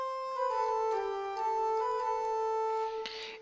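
Virtual pipe organ playing a chimney flute with a 2-foot flute, no 16-foot Bordun: bright, high sustained organ tones in a slow, steady line, clear and alone, with a brief airy swell near the end.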